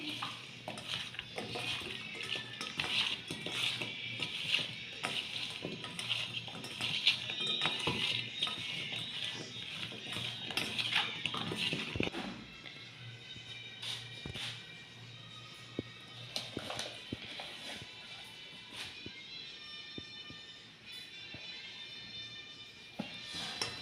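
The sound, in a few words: mixing baby corn with cornflour in a bowl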